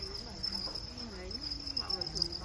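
Crickets chirping on a cricket farm, a steady high-pitched trill that runs throughout, faint and close, with no voices.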